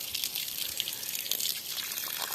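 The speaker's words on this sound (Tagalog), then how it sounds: "Ayan ang tubig namin o." Water from a mountain spring on a farm in Quezon flowing steadily and strongly, a close, continuous rushing trickle with no speech.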